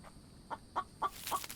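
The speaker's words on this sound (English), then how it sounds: "I should kill that chicken." A chicken in the video game The Infected gives several short, soft clucks in a spaced rhythm, fairly quiet against faint game ambience.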